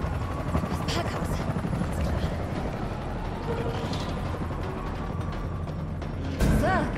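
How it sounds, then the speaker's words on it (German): Helicopter in the video game Resident Evil 3, a steady whirring rotor drone with mechanical clatter and ratcheting layered over it, continuous and fairly loud, with a sharper burst near the end. "Das ist ein Helikopter, der Sie in Sicherheit bringt."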